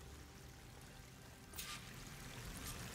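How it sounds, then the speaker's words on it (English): Steady rushing water from a waterfall in the video game Horizon Forbidden West, a continuous broadband roar that swells slightly louder partway through, with no talk over it. "That waterfall must be coming from somewhere."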